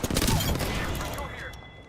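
Apex Legends gunfire: a dense rattle of rapid shots crowds the opening, then thins and fades into a softer tail, mixed with game chatter and voice callouts.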